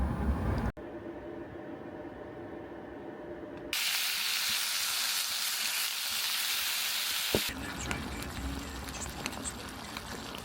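Food sizzles and fries in a pan while cooking outdoors in a camper van on a clear night in Connemara, Ireland; a steady broadband hiss that grows louder partway through, with occasional small pops and clicks.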